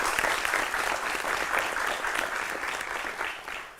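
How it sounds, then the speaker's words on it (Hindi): Studio audience applauding loudly and steadily for a welcomed scientist guest on a televised space discussion show, dense clapping throughout with no voices over it. "जोरदार तालियों से सौम्य दत्ता जी का स्वागत करें।"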